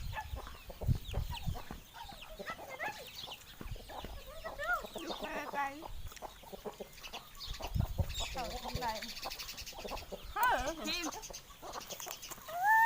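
Chickens clucking and calling around a rural Thai home, several birds with busy overlapping clucks and squawks at moderate distance, mixed with people talking throughout.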